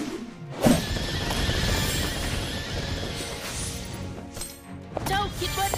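A white horse neighs in the mobile game Samkok Reborn 3D, a loud whinny with clip-clopping hooves and battle effects, while a voice speaks over it.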